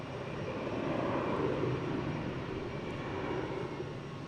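Airliner taxiing past toward runway 22 at Boston Logan airport, a steady broadband engine rumble and whine holding level throughout, moderately distant with no voices.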